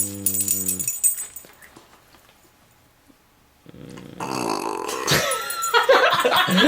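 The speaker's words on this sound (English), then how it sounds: "Burp right on the camera." A small pet dog burps at the camera; a long, loud guttural belch rises after a quiet pause, preceded by a brief tonal sound at the start, close and clear.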